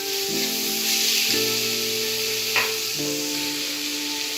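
Chopped tomatoes go into frying onions for a dhaba-style chicken curry, giving a steady, even sizzle that runs throughout under a faint, sustained background tone.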